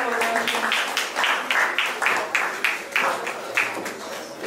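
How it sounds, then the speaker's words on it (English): Applause from an audience at a youth awards ceremony, a steady run of clapping with rhythmic bursts roughly every half second, fairly close and loud. "Please let's clap for them"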